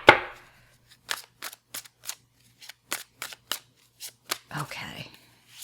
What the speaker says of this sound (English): These cards are so awkward to shuffle.